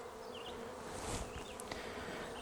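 A faint, even drone of honey bees hovers around a sparsely populated hive, continuous and soft with no voices.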